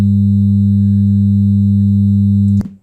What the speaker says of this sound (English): I'm going to turn on one tone and then add a second tone.